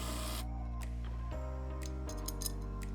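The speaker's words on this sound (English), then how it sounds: "I'm going to countersink these screws into them" A power drill driving screws into metal brackets during a pallet-wood upcycle of an old Ikea table, a steady loud motor whine that drops pitch twice as the screw bites and seats, with a few faint clicks near the end.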